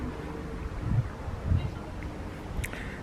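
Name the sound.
light wind outdoors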